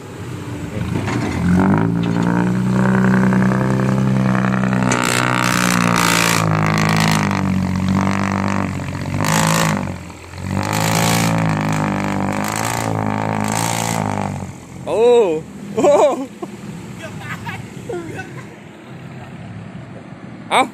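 An excavator engine roars loudly and revs repeatedly while the machine is driven, with deep sustained surges and brief dips, followed by a few short sharper bursts near the end.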